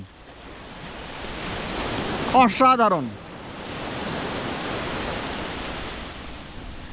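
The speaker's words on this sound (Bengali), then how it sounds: "এখন সমুদ্রটা এনজয় করুন, সি বিচ, সমুদ্র আর প্রাকৃতিক ঝাউবন" Sea waves wash onto the beach at Dublagadi, beside a casuarina forest, in a continuous hissing surf. A voice briefly exclaims partway through, then the steady roar of the water carries on alone.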